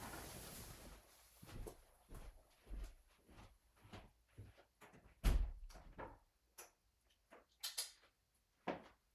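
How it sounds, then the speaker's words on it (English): A door in a house being opened, heard as a series of separate knocks, clunks and handling sounds spread over several seconds, fairly close and quiet, with no talking. "Let me open my door and see if one of my cats come in."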